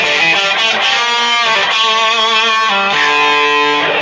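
Electric guitar played through an effects preset on a Disaster Area DPC-5 controller, giving a loud, sustained, heavily processed tone with rich harmonics and a few chord changes, close and alone.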